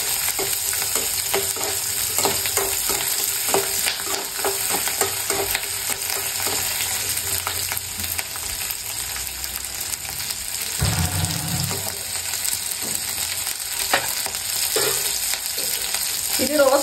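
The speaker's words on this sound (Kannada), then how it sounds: "ಅದಕ್ಕೆ ಹಸಿಮೆಣಸಿಕಾಯಿ, ಶುಂಠಿ, ಬೆಳ್ಳುಳ್ಳಿ ಇದಿಷ್ಟನ್ನು ಚೆನ್ನಾಗಿ ಸ್ವಲ್ಪ ರೋಸ್ಟ್ ಮಾಡ್ಕೋಬೇಕು" Green chillies, ginger and garlic roasting in hot oil give a steady, close sizzle with frequent stirring scrapes throughout, with no voices.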